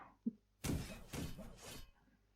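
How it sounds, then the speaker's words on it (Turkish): Dice rolled in the video game Dice & Fold: a small tap, then three quick bursts of clattering, rattling impacts in fairly close succession. The sound is close and moderately loud, with no talk. "Hadi zar attım."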